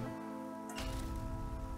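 Rain in a survival video game begins suddenly as a steady, soft hiss of falling drops, taking over from a quieter hum and continuing evenly with no speech.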